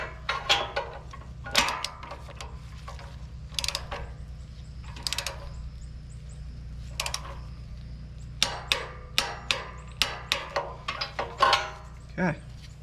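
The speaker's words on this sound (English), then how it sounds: "we got our torque wrench set to 20 foot-pounds" A torque wrench set to 20 foot-pounds ratchets as it tightens a spark plug on a Champion 9000/7000 dual fuel generator, giving sharp, close clicks in sparse bursts that quicken into a rapid series near the end.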